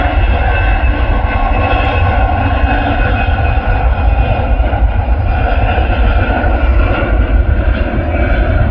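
An Airbus A340 sits on the runway at Manchester Airport with its jet engines producing a loud, steady, unbroken roar that holds for the whole stretch, with no voices.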